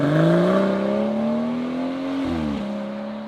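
A 2016 BMW M240i with a 3-litre twin-turbo engine revs up and holds a steady drone, the pitch climbing gradually before a brief dip and recovery, loud and close with no talking.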